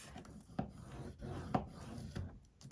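Paper being scored with a tool for a pocket flip book, faint close scraping and rubbing strokes with a few soft taps, quiet and without talk.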